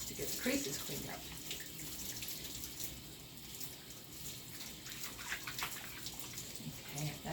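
Tap water runs steadily throughout a puppy's bath, a continuous broadband rush with faint splashes, as a person talks intermittently over it.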